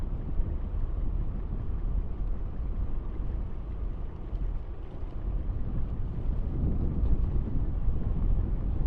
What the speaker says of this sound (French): Alors là, on a quand même du vent de face là.